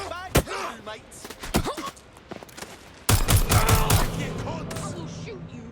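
Gunfire rattles through a Watch Dogs Legion firefight on Xbox One, with scattered single shots first and then a dense, loud burst of rapid automatic fire.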